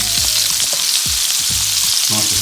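Meatballs fry in butter and oil in a pan, with a loud, continuous sizzle and bubbling, close up, and a few soft knocks and scrapes of the food shifting underneath.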